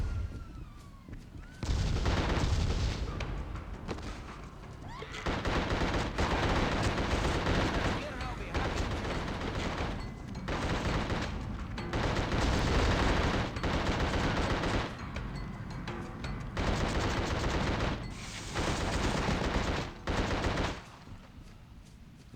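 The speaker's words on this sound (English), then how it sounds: "Yeah, the grenades worked on him" Grenade blasts and heavy gunfire from The Suffering video game roar almost continuously in loud bursts, with brief lulls between volleys.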